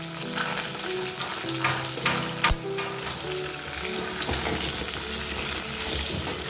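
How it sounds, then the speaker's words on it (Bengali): Potato pieces frying in hot oil in a wok, seasoned with turmeric and salt, a steady close sizzle with occasional stirring clinks and scrapes of the spoon against the pan. "আলুগুলো একটু ভেজে নেব।"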